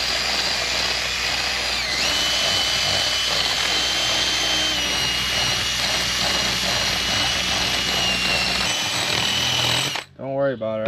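A loud, steady power drill whine drills continuously for several seconds while installing a switch on a boat, then cuts off abruptly, leaving a voice speaking briefly at the end.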